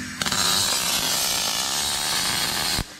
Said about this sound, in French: Un petit coup de meule.